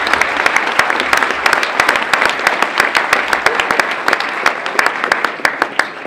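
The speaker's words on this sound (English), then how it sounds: "Can we give them a round of applause?" An audience applauds continuously, a dense patter of many hands clapping at steady volume with a few louder individual claps standing out.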